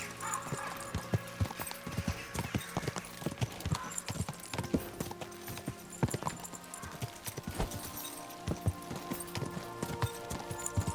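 Horse hooves clip-clop at a steady trot as a rider travels in Kingdom Come: Deliverance 2, with quiet game ambience and no talk.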